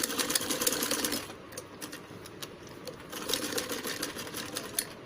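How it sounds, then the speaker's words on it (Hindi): Sewing machine stitching a padded princess-cut blouse, rapid rhythmic needle clatter in bursts, a brief slowdown then running again, fairly faint and close with no talk. "यहाँ तक हमें स्टिचिंग करना है।"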